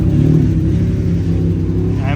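A Maserati MC12 supercar with a wide body passes or idles close by, its engine giving a steady, loud low rumble throughout, with people talking nearby.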